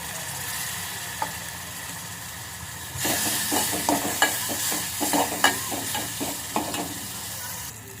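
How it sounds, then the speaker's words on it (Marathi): A quiet stretch, then a loud burst of sizzling and bubbling as water hits tomato, salt, turmeric and spice masala in a hot pan for bombil curry, with stirring clinks continuing close by. "थोडंसं पाणी टाकायचं"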